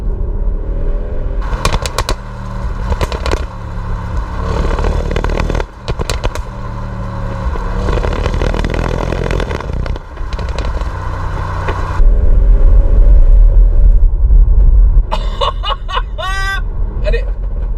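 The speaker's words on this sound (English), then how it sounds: "And it just farts and bangs and pops on the override all day long." Audi RS6 Performance exhaust crackles, pops and bangs on the overrun during hard acceleration, with a loud, continuous engine roar and repeated sharp bursts throughout.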